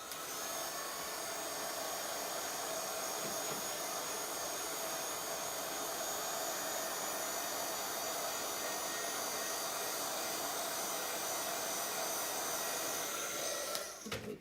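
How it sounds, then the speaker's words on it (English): A heat gun blows hot air over freshly inked card die cuts, a steady loud whooshing roar that runs almost without change and cuts off abruptly at the very end. "I'm going to just give them a little blast over with a heat gun again"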